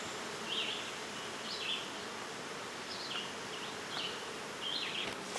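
Honeybees at an open hive on a hot day, their dense, steady buzzing swarming close with individual insects droning past the listener now and then.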